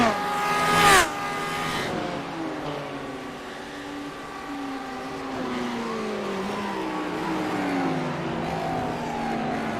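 GT3 race car on a lap of Suzuka in a sim racing game, engine whining up through the revs with gear changes stepping the pitch, a brief loud whoosh near the start, under commentary.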